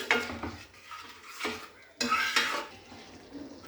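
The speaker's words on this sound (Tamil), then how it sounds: "நல்லா கிளறிட்டே இருங்க." A utensil scrapes and stirs mushroom milk curry in a pan with a soft sizzle beneath, in a few uneven bursts of close clattering.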